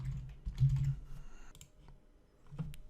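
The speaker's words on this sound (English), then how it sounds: "let's type our email." Keys tapped on a computer keyboard while entering an email address into a Git configuration command, a short burst of soft clicks near the start, then a few scattered keystrokes, fairly quiet with no talking.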